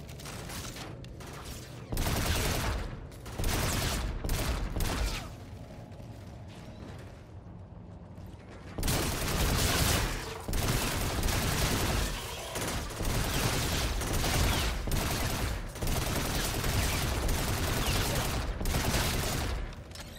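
Gunfire in the video game Call of Duty Infinite Warfare, loud rapid bursts of automatic fire in several long volleys with a short lull near the middle.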